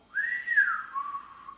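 A single clear human whistle, rising briefly and then sliding gradually lower in pitch as it is held for over a second, with no talking.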